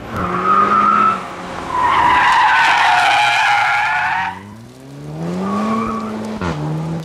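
Car tires squeal loudly in sustained screeches while drifting, with a revving engine underneath and a second skid near the end.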